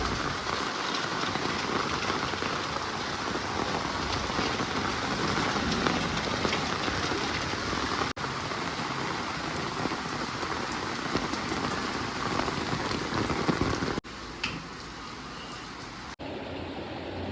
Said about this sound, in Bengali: বিশাল জোরে বৃষ্টি এসেছে।